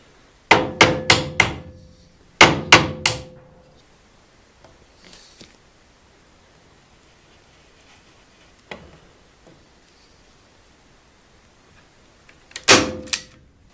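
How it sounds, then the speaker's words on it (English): Two quick bursts of sharp hammer taps driving tacks into oak pallet wood, four or so each, then quiet with a single faint knock and a final cluster of taps near the end. "so I can just tap them in with a hammer then."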